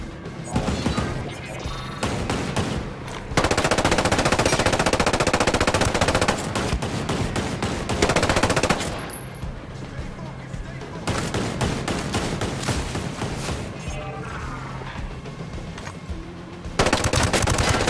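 Bursts of automatic rifle fire and heavy gunfire sound through a firefight in Ghost Recon Breakpoint, loud and close, with brief lulls between sustained volleys and voices shouting through the action.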